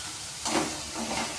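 Masala and vegetable pieces fry in oil for fried rice, a steady close sizzle with a brief louder hiss as the mixture is stirred.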